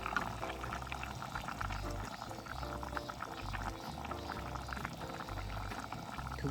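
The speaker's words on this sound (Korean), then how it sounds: "김치가 이제 찌개가 보글보글 끓고 있고요" A pot of kimchi stew with canned tuna and Spam bubbling at a rolling boil, a continuous soft gurgle and pop of liquid heard close up, with a faint low hum beneath and no talking.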